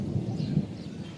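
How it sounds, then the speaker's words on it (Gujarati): A short, low roll of thunder rumbles during rain in a village beside a forest, fairly distant and soft, with faint rainfall beneath. "ને વરસાદ પણ ફૂલ ગાજે છે"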